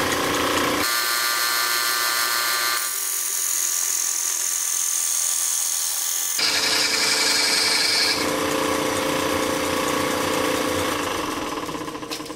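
A wood lathe turns a new wooden hub core for an 1857 patent Sarven hub in a coach shop, giving a loud continuous whirring hum whose pitch and texture shift between sections as the cut changes.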